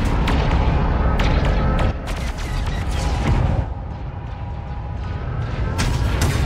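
Blaster gunfire in the video game Star Wars Outlaws, a loud run of sharp crackling shots and booming impacts, dense at first and then thinning into scattered bursts.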